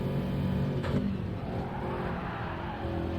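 A race car in Gran Turismo 7 roars at steady high revs while chasing closely in another car's slipstream toward the last turn, with a brief tyre squeal near the start, loud and continuous, no talking.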